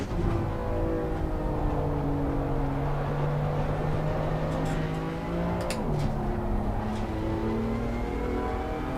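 Race car engine in Assetto Corsa Competizione under throttle, a loud, steady droning whine with rising harmonic tones and a brief dip around a gear change midway before the pitch climbs again, with no talk.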